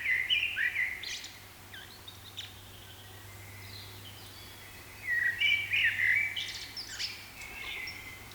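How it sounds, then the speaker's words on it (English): Recorded birdsong plays for an audience at a wellbeing symposium: bright chirping phrases come in two clusters, one at the start and another a few seconds later, separated by a quieter stretch with a low steady hum underneath. "So I just want you to listen to the birds."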